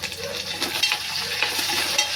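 Onion, curry leaves and mint sizzle in a hot pan as they are stirred, a steady close frying hiss with soft scraping of the spoon throughout.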